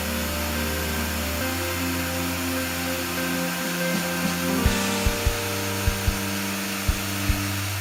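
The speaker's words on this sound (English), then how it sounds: "I used my CNC router to cut the parts out of a block of ash wood." A CNC router cuts parts from a block of ash wood, a loud sustained tonal whine with shifting pitch, joined later by a series of sharp low knocks at irregular intervals.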